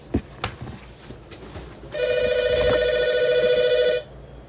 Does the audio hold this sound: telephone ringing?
yes